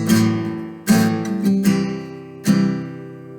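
Strummed acoustic guitar chords from a song, four separate ringing strums each decaying before the next, close and clear with no voice.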